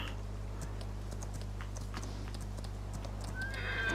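Hooves of a ridden horse in a video game clip-clop in a steady walking rhythm, moderately close over a low constant hum, with a brief whinny near the end.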